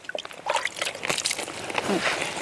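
Water is poured and sloshed into a wet mud mixture, giving a short run of trickling, splashing and squelching close by.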